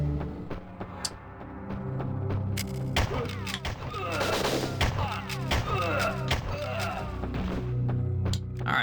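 Gunfire in the N64 game Winback, bursts of shots and thuds layered over the game's music and effects, moderately loud and continuous across the stretch.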